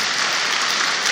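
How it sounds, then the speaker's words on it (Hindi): Listeners at a spiritual discourse break into applause, a brief, full, even wash of many hands clapping at once, close and continuous. "सच्ची भले भले ताली बजाओ"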